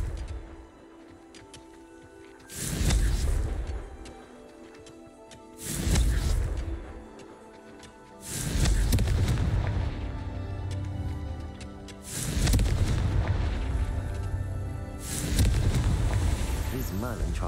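Confringo explosive spell cast in Hogwarts Legacy, a series of loud, bursting blasts recurring about every three seconds, each with a deep rumbling body and hissing tail, over steady game ambience.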